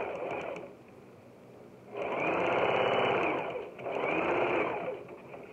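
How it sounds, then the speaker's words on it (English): Sewing machine stitching fabric pieces onto a dish towel: two close, loud runs of steady mechanical whirring and rapid needle clatter, separated by short pauses with a softer idle hum. "And then I'm going to sew this down."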